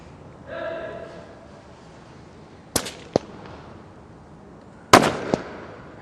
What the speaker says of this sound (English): The Fajera Police snipers engaging their targets.